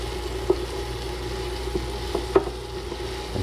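Mushrooms and onions sauté in a pan, giving a steady, soft sizzle broken by a few light clicks of the utensil, close and with no talking.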